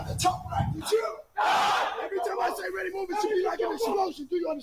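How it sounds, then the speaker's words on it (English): A group of military recruits scream together at the top of their lungs, a loud, sustained crowd yell that bursts in after a brief pause, with a voice heard just before it. "scream at the top of your lungs."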